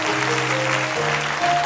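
A church congregation applauds and cheers during a sermon, a steady wash of clapping and crowd noise throughout, with a sustained tone running underneath.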